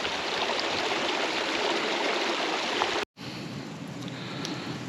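A mountain stream rushes steadily, a dense close wash of flowing water that cuts out for a split second before carrying on, with no voices.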